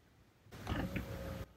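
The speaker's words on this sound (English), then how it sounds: "It moved the door inside the HVAC box." A car's HVAC blend door actuator motor runs for about a second, commanded by a Topdon diagnostic scanner, giving a close whirring, grinding mechanical sound that starts and stops abruptly inside the dashboard air box.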